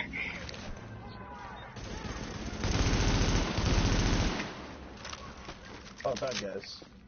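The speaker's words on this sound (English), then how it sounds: "I'm getting shot from that direction right now." Gunfire in the video game The Division, a sustained burst of shots rising to a loud, dense stretch in the middle and tapering off, with voices talking over the game audio.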